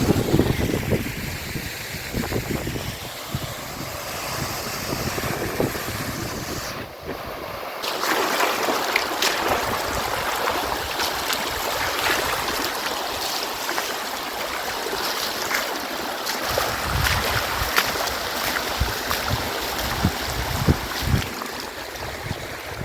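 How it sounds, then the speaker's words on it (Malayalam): Water pours loudly and steadily from a burst water supply pipe, gushing like a small waterfall beside a road, a continuous rushing wash that briefly dips near the start before resuming at full strength. "വാട്ടർ സപ്ലൈ പൈപ്പ് പൊട്ടിയതാവാം എവിടെ നിന്നാണെന്ന് നോക്കി മുകളിലോട്ട് നടന്നപ്പോൾ വെള്ളച്ചാട്ടം പോലെ വെള്ളം വരുന്നു"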